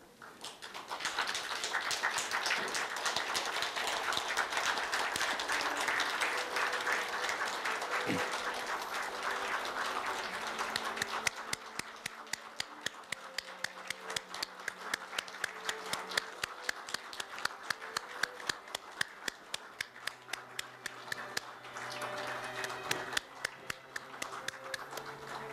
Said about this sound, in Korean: 모두 일어나셔서 박수로 환영해 주시면 감사하겠습니다